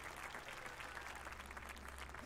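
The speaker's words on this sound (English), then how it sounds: "Did he applaud me?" Steady crowd applause from a golf gallery in Tiger Woods PGA Tour 2005, a continuous even patter of clapping held at a moderate level throughout, with no talk over it.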